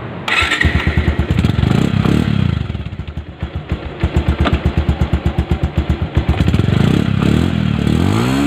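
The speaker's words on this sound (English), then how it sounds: "Let me start the vehicle." Bajaj Pulsar 150cc motorcycle starting up: a loud close engine catches and settles into a rapid thumping idle, with a couple of revs and some mechanical clatter, steady and unaccompanied by speech.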